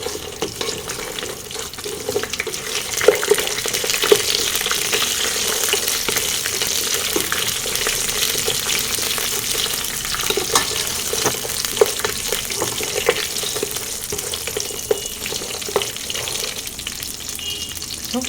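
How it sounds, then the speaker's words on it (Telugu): Peanuts and cashews, with a couple of bay leaves, fry in tempering oil for a cashew khichdi, giving a steady, close sizzle with occasional stirring scrapes and knocks throughout. "ఇప్పుడు పల్లీలు, జీడిపప్పు వేసుకోవాలి. కూడా ఫ్రై అవ్వాలి, కొంచెం దోరగా ఫ్రై అవ్వాలి."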